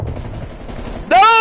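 Gunfire from a PS5 video game rattles in a dense, continuous burst for about a second, then gives way to a loud, sustained tonal whine that rises and holds to the end.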